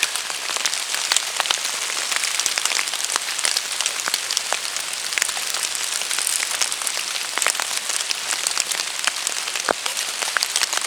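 Steady rain patters densely on leaves and surfaces in a forest, a continuous close hiss dotted with sharper individual drops.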